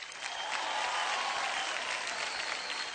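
Audience applause fills a Bhojpuri film award show, a broad steady clapping from a large crowd that swells quickly and holds for a few seconds at moderate distance.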